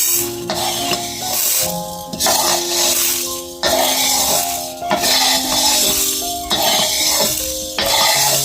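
Roasted black peppercorns are scraped out of a hot pan with a utensil, making repeated loud, close scraping and rattling strokes in a steady rhythm over a faint tonal hum.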